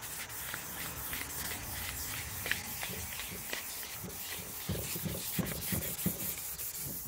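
Sandpaper rubbed by hand against a surface, a close, faint, continuous scratchy scrubbing with uneven strokes and occasional louder scuffs throughout.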